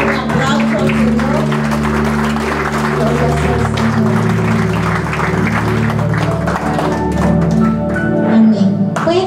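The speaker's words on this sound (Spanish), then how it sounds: "Denle un aplauso al Señor." A church congregation claps along during a Sunday worship service, the applause spread under sustained keyboard music and a voice that carries across the full stretch.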